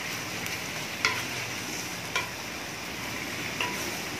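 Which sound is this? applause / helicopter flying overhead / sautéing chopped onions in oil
sautéing chopped onions in oil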